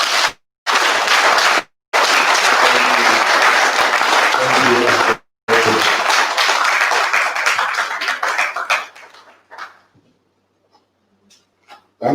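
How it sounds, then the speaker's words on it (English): Audience at a Nigerian university registrars' association event giving a final round of applause for a professor, loud sustained clapping that fades away to near silence with a few scattered claps at the end. "please let us give him a final round of applause"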